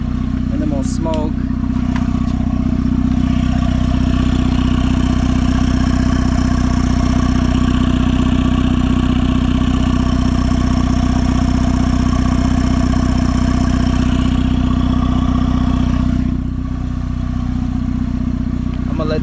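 A turbocharged car engine idles steadily while warming up, a loud, close, continuous low rumble that holds even throughout, with a slight drop in level near the end.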